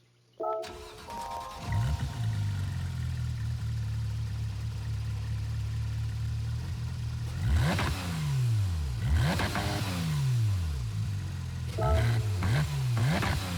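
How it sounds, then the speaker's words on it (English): A 2001 Porsche 996 911 GT3 in Gran Turismo 7 starts up with a starter whir and catch, settles into a loud steady idle, then gives several sharp rising and falling revs. "I'm gonna click on this car, we'll listen to the startup sound"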